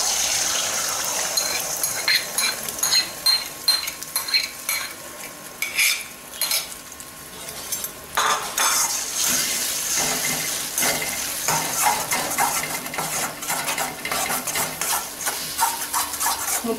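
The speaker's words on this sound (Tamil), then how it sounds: "முட்டையை நல்லா கிண்டிக்குவோம்" Eggs seasoned with coriander powder are stirred as they fry in oil in a pan, giving a steady sizzle with frequent scraping and clinking from a spoon against the pan, close and fairly loud, with no talk.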